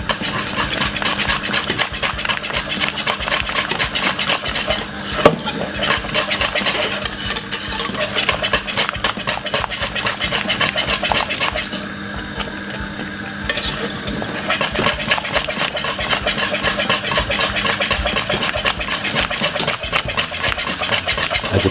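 Cornmeal porridge with sweet condensed milk being whisked in a pot, a steady, busy scraping and stirring that runs continuously and fairly loud, with a brief lull partway through.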